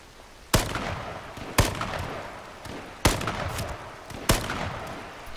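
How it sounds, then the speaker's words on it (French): Gunshots in the online battle royale game H1Z1: four loud, sharp single shots spaced about a second apart, each with a booming tail, heard alone without talk. "J'ai l'impression que je tire trop."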